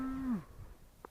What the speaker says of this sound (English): Our friends the cows,